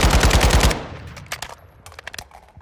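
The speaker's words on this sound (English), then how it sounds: "you can see there that the recoil, it slightly goes up and to the right, but it's very, very manageable" Assault rifle fire in Call of Duty: Modern Warfare II: a loud, rapid automatic burst up front, then fading into scattered lighter shots and clicks.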